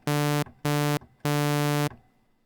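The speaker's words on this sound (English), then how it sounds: "Next up is a sawtooth." Sawtooth wave oscillator on the Retro Synth soft synth, three bright, buzzy, harmonically rich notes with short gaps, the third held longest, loud and clean with no other sound.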